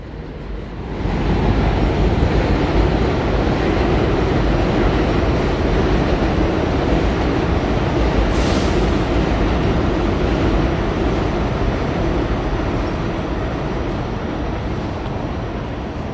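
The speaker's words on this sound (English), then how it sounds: "And here come another train. Here come an uptown train coming." An uptown New York City subway train roars past close by, a loud continuous rumble building quickly and holding, with a brief high squeal of wheels midway.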